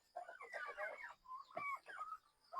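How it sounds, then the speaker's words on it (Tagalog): A turkey on a backyard poultry farm gives a short series of close, warbling gobble-like calls and clucks over about two seconds. "May pabo tayo dito na"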